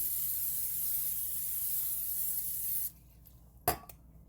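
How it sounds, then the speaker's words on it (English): A can of cooking oil sprays onto a pan for a Thanksgiving meal, one long, close, steady hiss lasting nearly three seconds, then a short quiet gap and a single brief burst. "Spray the pan."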